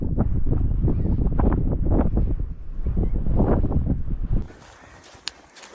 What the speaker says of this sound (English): I'm just going to shield my camera from the wind